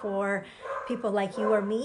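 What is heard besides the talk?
dog barking in the background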